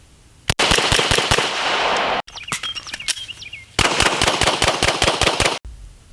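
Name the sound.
9mm gunshots firing Nevada Ammunition 115 grain remanufactured ammo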